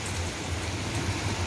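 Heavy rain pours steadily in Kuwait, a dense continuous hiss of drops striking surfaces with no breaks, close and fairly loud.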